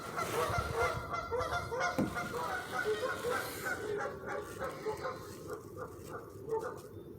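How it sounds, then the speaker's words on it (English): Ducks out in a marsh keep up a run of repeated honking, quacking calls that rise and fall, loud and fairly near, with a few scattered squawks between them. "There's actually quite a few more ducks than I originally saw."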